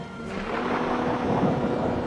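Thunder during a Lord of the Rings video game battle on a custom Battle of Five Armies map, a deep continuous rumble with rain-like hiss, loud and sustained throughout.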